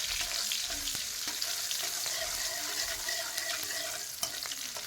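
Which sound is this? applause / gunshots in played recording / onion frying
onion frying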